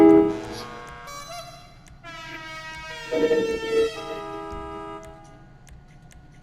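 A car horn in the video game GTA V, on a customized Rolls Royce, sounds as sustained harmonic honks, with a louder blast midway, over a low steady background with no talk.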